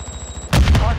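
Gunfire in Call of Duty: Modern Warfare II erupts midway as a short, loud burst of two or three close shots over a low background rumble.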